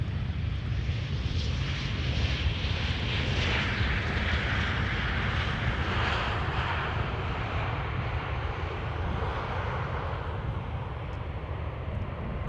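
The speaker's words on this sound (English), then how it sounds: "Parallel to it on the glide slope to the center runway, Lufthansa flight 992." Lufthansa Airbus A320 on final approach to land at Amsterdam Schiphol, a continuous broad jet roar with wind buffeting, steady and fairly loud throughout with no speech.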